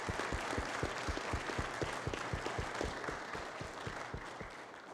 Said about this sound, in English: Can we have a round of applause for everybody